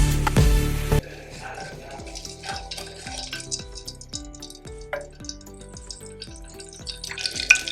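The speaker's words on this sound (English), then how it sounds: "add cardamom seeds and fry for 1 to 2 minutes" Cardamom seeds fry in hot oil in a pot over medium heat, a brief loud burst at the start giving way to a steady soft sizzle with repeated light clinks of a utensil against the pot.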